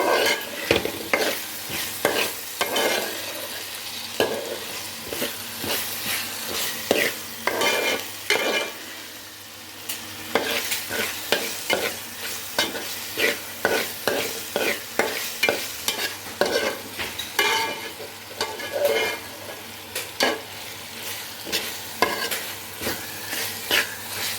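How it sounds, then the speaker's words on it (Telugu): Ingredients for a fish curry sizzle and fry in a pan while a utensil stirs and scrapes in steady repeated strokes. The sound is close and continuous, with no talking. "ఇది కూడా బాగా వేగాలండి"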